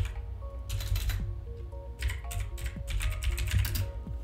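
Typing on a computer keyboard while working in Microsoft Word: steady bursts of close, crisp key clicks with short pauses between runs, no talking.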